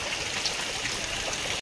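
Steady rain falling outdoors, a dense even hiss of water with trickling drops, close and continuous, cutting off abruptly at the end.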